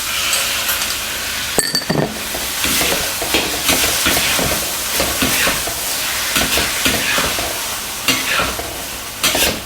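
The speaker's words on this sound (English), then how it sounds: "And keep stirring and flipping to avoid sticking." Chow mein noodles with sauce stir-fried in a wok over high heat: loud, close sizzling with rapid repeated scraping and tossing strokes and occasional metallic clinks.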